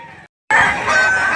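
A rooster crows loudly and close at a busy chicken market in Lipa City, Batangas, a single strained call following a brief clucking sound.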